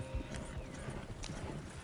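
Horses' hooves clip-clop steadily on the ground in Red Dead Redemption 2, a close, continuous rhythmic trotting over a low rumbling background, with no voices over it.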